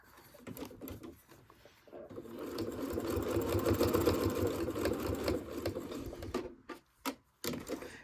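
A home sewing machine stitches fabric for a small Kleenex tissue holder, a steady mechanical whirring run that builds and holds for several seconds, then stops and restarts in short bursts near the end.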